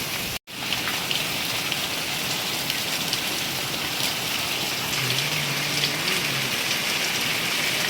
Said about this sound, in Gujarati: એટલો જ ધોધમાર અત્યારે બી ચાલુ છે વરસાદ